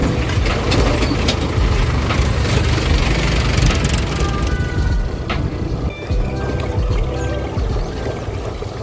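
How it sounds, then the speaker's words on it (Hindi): A tractor engine rumbles loud and close while a motorbike overtakes it on a road to Ramdara temple, with steady heavy noise and wind throughout. "ट्रैक्टर एक्चुअली, इनको ओवरटेक करना पड़ेगा वरना शाम हो जाएगी यहीं पे"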